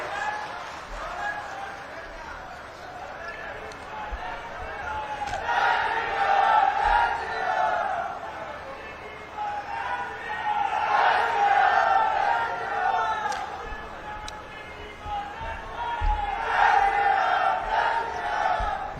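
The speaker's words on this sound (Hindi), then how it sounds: "एक बार माननीय मुख्यमंत्री महोदय के स्वागत में जोरदार नारे लगाएंगे।" A large crowd welcoming a chief minister chants slogans in rhythmic, swelling waves, loud massed voices rising and falling roughly every four seconds across the whole stretch.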